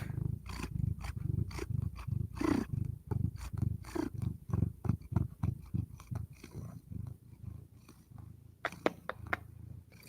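Domestic cat purring indoors, a close rhythmic rumble pulsing steadily in repeated breaths throughout, fairly loud with no talking.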